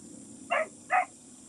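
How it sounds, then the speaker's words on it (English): Two sharp barks from a Great Pyrenees on a farm ring out a little distant, with a short gap between them, over a quiet steady background hum. "When the other dogs are barking at something, they're barking now"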